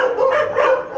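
A mine-detection dog at a training center near Sarajevo gives a short, close bark, a quick yelping burst lasting about a second.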